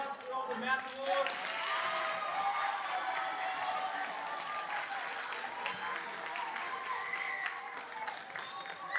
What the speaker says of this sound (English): let's go ahead and give a round of applause for all the math awards